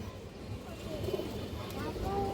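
Pigeons cooing close by, several soft low coos over a faint background hum, with someone talking over them.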